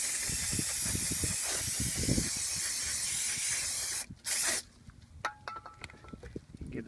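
Brake cleaner sprays onto new Subaru Legacy GT brake parts in a loud, continuous close hiss lasting several seconds, then one short burst follows, with light clinks of handled parts afterward.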